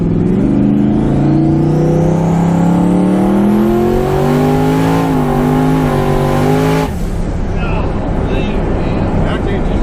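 Race car engine revving hard as the wheels spin, a loud rising howl climbing in pitch over several seconds before abruptly dropping off, with voices talking underneath.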